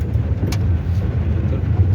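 A car drives along in heavy rain, its engine producing a steady, fairly loud low rumble heard from inside, without any talking.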